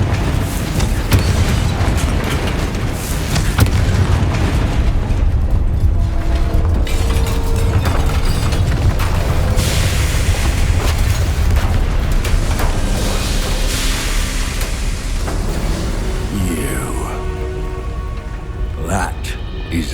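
A Confringo blast spell goes off in the video game Hogwarts Legacy, a heavy, sustained booming rumble with crackling debris that rolls on loudly throughout with a voice speaking over it.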